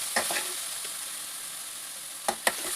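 Chopped tomatoes with turmeric sautéing in a pan for egg bhurji, a steady soft sizzle with a few brief spoon stirs and scrapes near the start and end.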